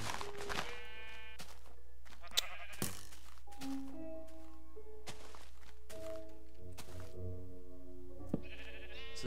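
Sheep bleating repeatedly in the Minecraft video game, several game-style bleats spread across the clip, fairly clear over a steady low background with a few soft thuds and no talking.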